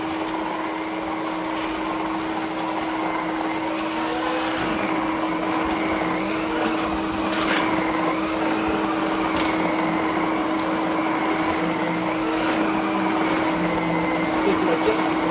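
An Electrolux 2100 Series canister vacuum cleaner with an Omniflo Power Nozzle runs steadily, a constant motor hum and airflow rush with a few faint clicks, close by and unbroken by talk.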